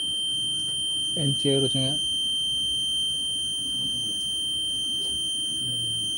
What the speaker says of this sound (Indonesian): Itu Buzzer, alarm itu itu buzzer.